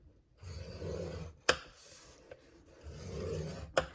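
A Stampin' Up! scoring tool scores paper for a Christmas candle gift box, making two soft rasping strokes of scraping with sharp clicks as the stylus is set down, close and alone.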